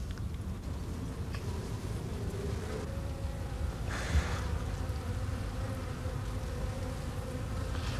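Honey bees buzzing steadily around an open hive during a colony inspection, a dense continuous hum with no talk, faint wind noise and a brief rustle partway through.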